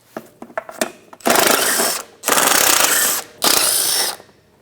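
Ratchet with a 10mm socket removing small nut caps on a 2009-2013 BMW 328i xDrive rear shock mount: a few light clicks, then three long, loud bursts of rapid ratcheting close by, with brief pauses between them.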